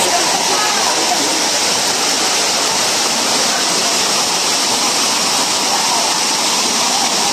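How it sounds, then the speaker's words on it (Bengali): Kancing waterfall at Rawang in the jungle roars as a loud, constant wash of falling water, broadband and unbroken, with no pauses throughout. "পিছনের এই ঝর্ণাটা কিন্তু খারাপ না, খুব সুন্দর একটা ঝর্ণা।"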